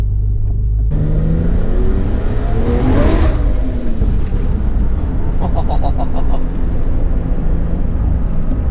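A Nissan Skyline drift car with an aggressive two-way differential revs and drives on a street in Japan, its loud engine rising to a sweeping peak near the microphone before settling into a steady rumble.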